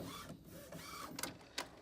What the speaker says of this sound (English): you can see the cartridge is like moving around